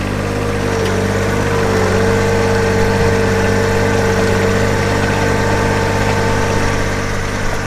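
A compact tractor engine drones steadily while plowing snow on a driveway, a loud, continuous low rumble with a faint whine that barely changes over several seconds, and no voices are heard.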